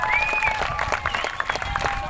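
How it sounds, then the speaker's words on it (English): Rally crowd at a peaceful assembly in Brisbane clapping and cheering after an introduction, with scattered claps and a few whistles or shouts over a busy outdoor crowd murmur, short and moderately loud. "What are you clapping for?"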